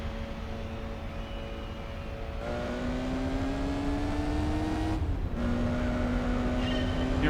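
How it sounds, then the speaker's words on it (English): A race car engine in the video game Gran Turismo 4 revs as the car accelerates, its whining tone climbing steadily and then dropping at two clean upshifts before rising again, loud and constant with no talk. "Alright, this car has pretty epic sounds."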